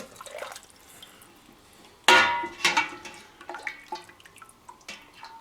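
Broth is ladled through a mesh strainer into a Pyrex, with a sudden splashing pour followed by a second splash and then trickling and dripping, close and clear.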